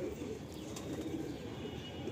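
Pigeons in a Madrasi loft coo in a low, continuous murmur, with faint chirps and fluttering above a steady background hum.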